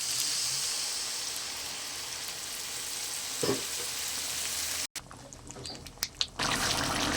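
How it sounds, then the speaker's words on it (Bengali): Steady loud sizzle of a jackfruit and shrimp curry in a pan, broken by a sharp pour of water that drops the hiss, followed by quieter bubbling and a few clinks. "এবার আমি পরিমাণ মতো জল দিয়ে দেবো"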